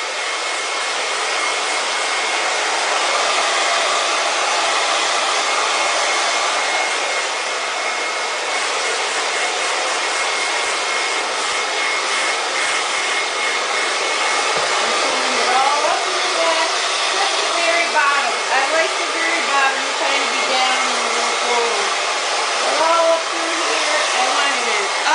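A hair dryer blows steadily and loudly at close range while hair is being blow-dried in a salon, its airflow wavering slightly as the dryer moves, with faint brushing noises underneath.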